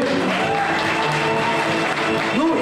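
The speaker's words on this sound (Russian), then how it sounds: "И опять-таки ваши громкие аплодисменты." Audience applause at an Armenian community evening show, a dense steady wash of clapping throughout with a brief tonal whistle or cheer rising near the end.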